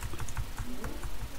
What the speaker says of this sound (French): on va donc en fait taper cette commande là, 0, 0, 0